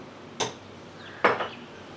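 Two brief clinks of a metal spoon against a glass or container while half a spoonful of nutmeg-cardamom powder goes into a raw vegan lassi, close and crisp with quiet gaps between.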